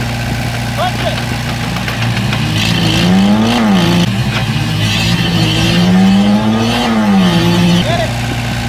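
A Ford Bronco Raptor revs hard while pulling against a dozer, its engine droning loud and close with rising and falling pitch swells, as people shout over it.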